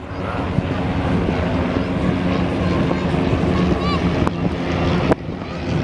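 Falcon Flight aircraft passing at the CenTex airshow while preparing to land down the runway: a steady, loud engine roar with wind buffeting, under a commentator's voice.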